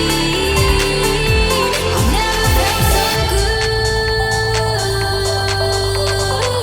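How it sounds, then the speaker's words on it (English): A Logic Pro X electronic remix plays dense synths and bass, and several swelling reversed sounds rise within the mix during the first half before a sustained lead line continues. The mix is loud and full, with no voices. "the reverse that I have going into many parts of the song"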